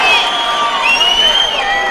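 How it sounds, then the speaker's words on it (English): A fight crowd at a combat sports event cheers and shouts continuously, a dense, loud wash of voices filling the whole short moment. "The crowd totally into this fight."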